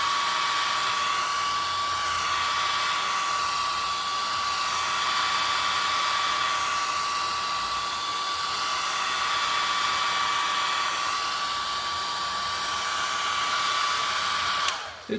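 A hair dryer blowing continuously over wet acrylic paint on a 14x11 canvas, a steady close whine and airflow roar held for about fifteen seconds before switching off at the end.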